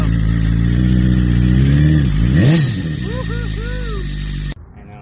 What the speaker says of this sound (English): this could just be the coolest BMW S1000RR in the world